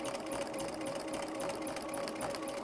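A sewing machine with a walking foot runs steadily while quilting, its even rapid stitching hum close and continuous at a slow, moderate speed.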